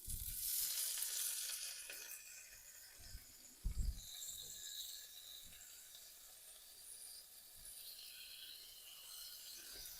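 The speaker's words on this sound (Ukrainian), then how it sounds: "На цій же самій пательні зараз обсмажимо бекон." Bacon frying in a pan, halved strips giving a faint, steady sizzle with a few soft clinks and scrapes early on.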